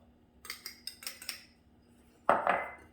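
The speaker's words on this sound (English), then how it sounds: "Mix it very well." A utensil clinks against a bowl while dry snickerdoodle cookie ingredients are mixed by hand: about six quick taps, then a louder rustling scrape near the end.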